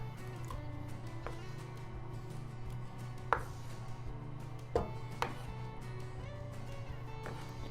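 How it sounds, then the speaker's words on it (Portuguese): Chopped pineapple tipped into a cooking pan for a cake filling: a few sharp, separate knocks and thuds of fruit and utensil against the pan, spread over several seconds above a steady low hum. "Agora eu pego esse abacaxi e vou colocar aqui na minha panela."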